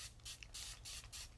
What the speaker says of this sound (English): just a little mist of a spray.